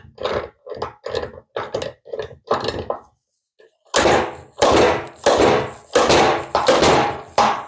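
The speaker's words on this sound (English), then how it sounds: "Install our slide hammer." A slide hammer strikes repeatedly while pulling a collet during trail bike wheel disassembly, a run of sharp, close metallic thunks. Several quick blows come first, then a short pause, then a heavier series of regularly spaced impacts.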